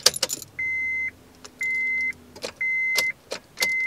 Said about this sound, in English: you can hear the beeping on your dashboard there